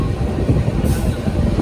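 Kathgodam Dehradun Express 14119 rolling on rails out of Haldwani station along a curve, a loud, steady low rumble of wheels and carriages that carries on without a break and has no talk over it.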